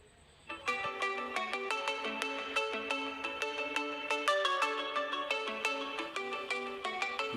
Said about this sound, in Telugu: ఇదేంటి మామ ఫోన్ చేస్తున్నట్టుంది.